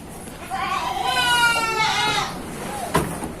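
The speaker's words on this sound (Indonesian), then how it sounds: "Ini kita lihat stok kambing milik Juragan Budi Cempe Farm" Goats bleat on a goat farm, one long wavering bleat swelling and fading near the microphone, then a short knock, with a voice talking faintly around it.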